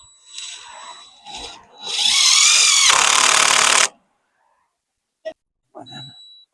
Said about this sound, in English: now I'm just going to come over and get a screw in the bottom